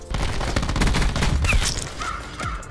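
Rapid, continuous automatic gunfire from a SAUG 9mm submachine gun in Black Ops 4, loud, dense bursts sounding across the whole stretch with no talking.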